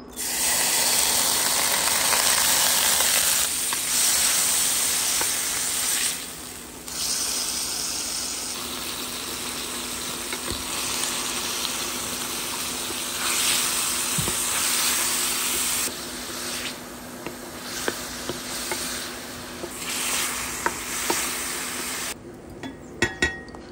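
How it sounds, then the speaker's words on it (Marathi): Prawns fry in hot oil in a pan for Goan cafreal, a loud continuous hiss that dips a few times, with scattered sharp pops and metallic clinks near the end. "कायल तापले उपरांत आनी सुंगटां आमी तळसून घेवया"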